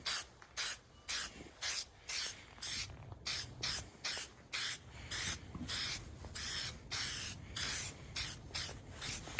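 A spray can sprays a coat onto a headlight during restoration, hissing in a run of short, regular bursts, about twenty quick sprays close by with brief pauses between.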